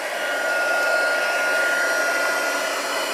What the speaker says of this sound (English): and warm up my heat gun, which I will do under the desk so it's not too loud for you.